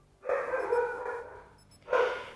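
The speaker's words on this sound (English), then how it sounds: "Oh my god, my dog is barking now" A pet dog named Gracie barks indoors in two loud, drawn-out bursts close to the microphone, with a short pause between them.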